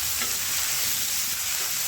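Crushed village garlic hits hot tempering oil, giving a dense, steady close sizzle with faint stirring, no voices.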